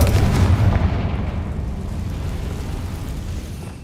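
A Confringo spell explosion in Hogwarts Legacy on PlayStation 5: a loud, heavy boom at the start that rumbles and decays over several seconds.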